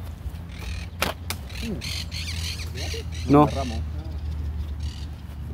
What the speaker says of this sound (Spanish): Ahí tenés a los loros. A mirar los loros.